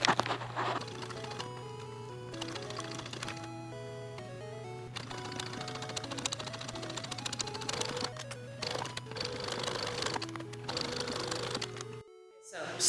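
A sewing machine stitching a skirt with red thread, a rapid fine patter of needle strikes running under background music and talking, then cutting out near the end.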